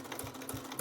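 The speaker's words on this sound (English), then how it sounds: "And you're just going to want to top stitch along here." A sewing machine sews a triple top stitch on knit fabric, its needle ticking in a quick, even rhythm of short repeated beats, close and fairly quiet.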